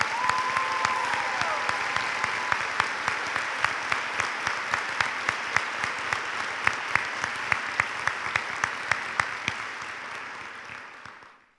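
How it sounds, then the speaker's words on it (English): Steady applause fills a nursing pinning ceremony as the audience honors contributors, a dense sustained clapping crowd with a few sharper individual claps standing out, holding evenly for about eleven seconds before tapering off. "so we can give you a round of applause to recognize your extraordinary contribution"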